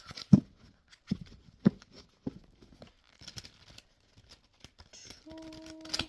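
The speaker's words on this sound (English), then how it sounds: "We are using our Siren tarot deck here. We're going to do a little shuffle." A tarot deck is shuffled by hand in a quiet room, giving a few sharp riffling and slapping bursts of cards followed by softer rustles and a faint tone near the end.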